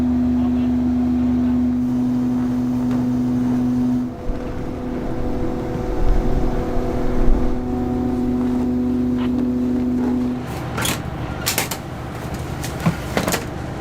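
A small motorboat idles in a sheltered fjord in Svalbard, its engine a steady drone with humming tones that shift partway through, then a few sharp knocks and clunks near the end, with no one speaking.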